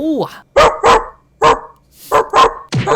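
A human voice imitates a dog at a voice impression contest, giving several short, loud barks in an uneven rhythm with brief pauses between them.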